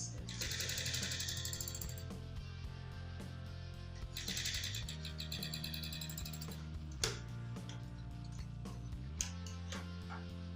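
A sewing machine stitches a straight line along a shirt cuff placket, running in two sustained bursts of rapid needle chatter over a steady low hum, with a couple of sharp clicks near the end.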